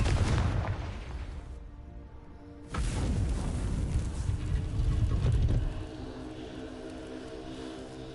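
A Confringo spell explodes in the video game Hogwarts Legacy with a heavy booming blast, followed by a second rumbling burst that sustains briefly and then fades into a low hum.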